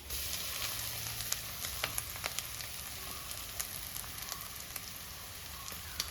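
Ground spice paste hitting hot coconut-oil tempering of curry leaves for a jackfruit thoran, giving a steady close sizzle with scattered crackles and pops throughout, no voices.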